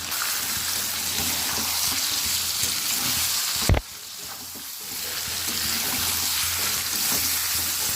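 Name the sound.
cumin, coriander and chilli powder frying with fish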